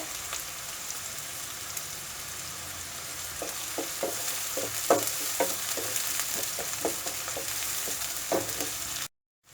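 Curry leaves and green chilli frying in hot oil for a brinjal tomato curry, a steady close sizzle with scattered crackling pops through the middle, no voices, ending abruptly.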